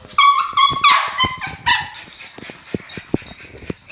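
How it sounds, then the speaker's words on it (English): A dog jumps for a treat tied to a toy, giving several sharp, loud close barks and yips early on, then thumps and scuffles with a few short whimpers, no talking. "so Apollo, my dog Apollo, is trying to get his treat back"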